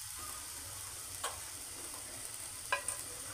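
A spoon stirs dhaba-style dal tadka after cumin powder goes in, giving a soft steady sizzle with a couple of faint clinks and scrapes against the pot.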